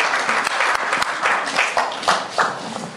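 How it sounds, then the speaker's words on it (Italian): Audience applause at a poetry award ceremony for the Giuseppe Marco Calvino competition, a dense steady clapping from a crowd filling the whole stretch, with a few louder swells and no talk over it. "Un bel applauso di incoraggiamento perché è molto emozionante."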